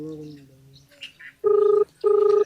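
Two loud sustained keypad tones, each about half a second, sound while a phone is dialed to call a village head, following a short hummed or spoken voice.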